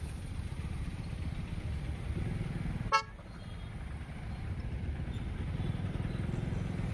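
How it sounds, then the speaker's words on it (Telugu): Weekend road traffic in Patancheru, Hyderabad: a steady low rumble of engines and passing vehicles, broken midway by a single short car horn toot, then the dense traffic noise carries on. "ట్రాఫిక్ మళ్ళీ వస్తుంది"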